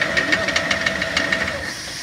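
An IMER Koine 4 plaster pump runs in reverse with a steady mechanical churn and hiss, its rotor turning in a quick repeating knock throughout, close and continuous.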